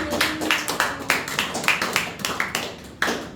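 A church congregation claps in a steady rhythm during worship, about a dozen sharp claps in a loose beat, close and moderately loud with no talking over them.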